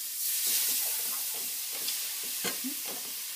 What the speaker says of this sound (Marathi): मी आता हे गरम दूध जे आहे ते आता ह्याच्यात ओतते.